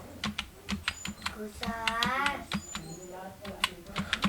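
Rapid clicking keystrokes on a computer keyboard as an Aadhaar number is entered into an online form, irregular taps close to the microphone with someone speaking over part of the typing.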